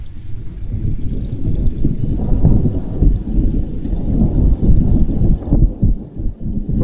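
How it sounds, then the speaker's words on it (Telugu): Heavy rain falls hard around the iconic towers construction site in Amaravati, a thick, rumbling downpour that stays loud and continuous throughout. "ఫుల్గా వాన పడుతుందండి, జోరు వాన"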